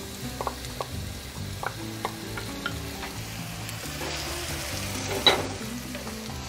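Tomatoes and onions frying in a pan for beef and potato flautas, with a low continuous sizzle and repeated spatula scrapes and taps, closer and louder toward the end, no talking.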